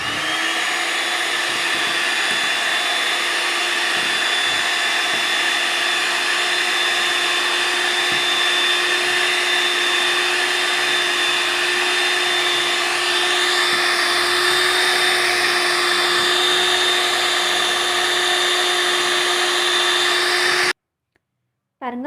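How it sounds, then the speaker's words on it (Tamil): An electric beater whirs steadily while mixing cocoa powder into a chocolate ice cream mix, a constant close motor whine lasting about twenty seconds before it abruptly stops. "கொக்கோ பவுடர் ஆட் பண்ணிவிட்டு இன்னொரு 3 to 4 மினிட்ஸ் நல்லா பீட் பண்ணிக்கலாங்க"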